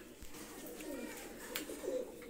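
Racing pigeons of a Saki bloodline coo softly, a low, faint murmur under steady background noise.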